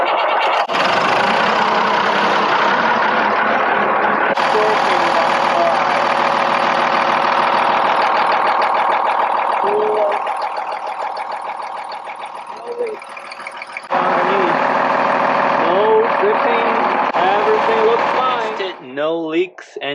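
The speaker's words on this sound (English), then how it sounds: "engine's running" A 2001 Monaco motorhome diesel engine cranks and fires, then settles into a steady, loud idle with a continuous drone, while people talk over it and fans run nearby.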